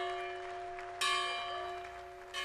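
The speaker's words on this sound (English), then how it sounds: "as they rang a bell to open the 7-story building" A bell rung to open the seven-story Smithsonian National Museum of African American History and Culture, sounding a sustained ringing tone that is struck again at about one second and once more near the end, with crowd noise faint behind it.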